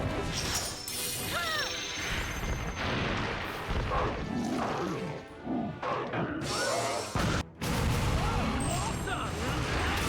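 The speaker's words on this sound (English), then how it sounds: "let's use fireball explosion now so it can't dig." Fireball explosion attacks from the Monster Hunter Stories 2 video game make dense, repeated crashing blasts and impacts, loud and layered over game effects and music for about ten seconds with brief drops near the end.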